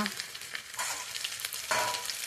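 A ground paste of chili, ginger and cumin hits hot oil in a pan, making a loud close sizzle with quick scraping stirs and a sharper burst toward the end.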